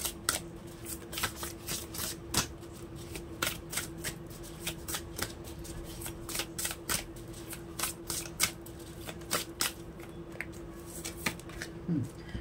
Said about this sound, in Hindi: रोमांस एंजल डेक से मैं कुछ कार्ड ले रही हूँ